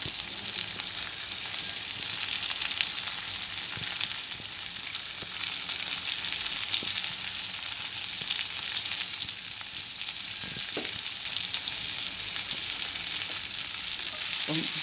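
Sliced onions fry in a pan for a Kerala-style beef and potato curry, giving a continuous dense sizzle throughout with occasional faint stirring clicks.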